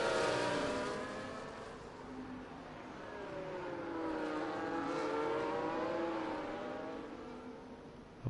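Race cars in a racing video game rush along the main straight at the Hungary circuit, with engine tones rising and sweeping through the gears. The sound is steady and fairly faint, with no talk over it.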